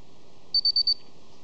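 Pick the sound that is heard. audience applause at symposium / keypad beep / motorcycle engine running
keypad beep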